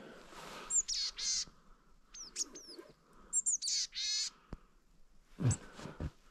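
A small bird chirping in a snowy forest, short bright bursts of tweets repeated in clusters, fairly close, with quiet pauses between calls.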